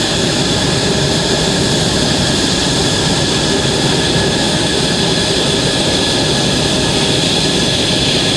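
USAF F-16 Viper fighter jet arriving at the Canadian International Air Show 2010, its engine a loud, steady, broadband roar filling the whole clip without any voices.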